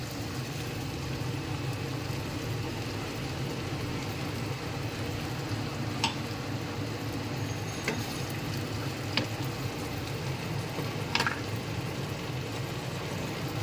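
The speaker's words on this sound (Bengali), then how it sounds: "তো দেখো পেঁয়াজগুলো লাল লাল ভাজা হয়ে গেছে। তো আমি এখন দিয়ে দিব মশলাগুলো।" Chopped onions and a spice mix sizzle steadily in a pan for a Bengali prawn curry. The frying hiss stays even and close throughout, with a few faint clicks from stirring.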